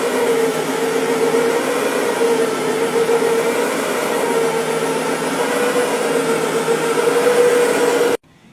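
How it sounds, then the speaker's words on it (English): Brush Pro carpet cleaning machine with two counter-rotating brushes working a carpet, a steady close whirring drone with a humming tone, constant for about eight seconds before cutting off abruptly. "You can use our Brush Pro for dry soil removal. It's got two counter-rotating brushes"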